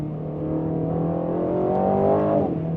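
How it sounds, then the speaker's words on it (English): An Aston Martin Vantage V8 engine revs with a smooth, steady rising drone that swells slightly toward the end, close and clear with no talking. "It's a good V8 noise."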